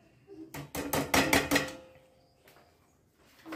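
A lid goes onto a pot of radish simmering in water on a stove, a quick run of loud metallic clatters and rattles, close by, followed by a quiet pause and a faint knock.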